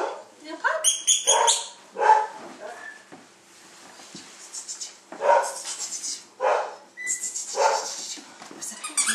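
A small puppy yips and barks in short, high bursts scattered through the clip, close by, mixed with a person speaking softly to it.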